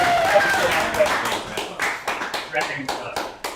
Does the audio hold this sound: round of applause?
yes